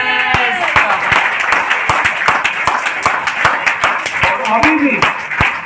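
An audience at a DTM event in Chandigarh claps in sharp, fairly regular beats that ring out clearly, while someone speaks over the clapping.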